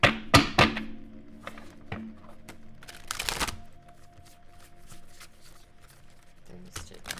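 A large tarot deck is handled and shuffled in uneven bursts of taps, thumps and card clatter, close but fairly soft, with a faint hum beneath.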